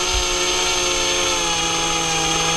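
A variable speed power drill runs slowly and steadily while coiling wire, giving a continuous loud whine with a stable motor hum, close and uninterrupted throughout.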